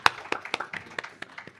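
Scattered, uneven clapping from a small audience at a research day event, a handful of sharp individual claps spaced irregularly, close and fairly quiet.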